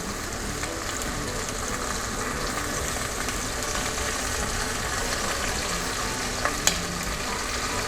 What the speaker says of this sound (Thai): ใส่ลงไปประมาณ 5ช้อนโต๊ะเลยนะครับ แล้วก็คลุกเคล้าให้เข้ากันก่อนนะครับ